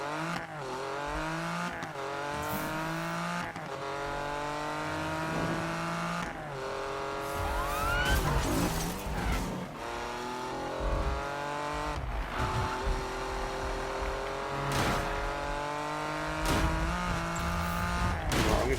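Race car engine in the 2015 Need for Speed game lapping a short circuit, revving up and down through the gears continuously with tire squeal and skids, loud and close the whole time.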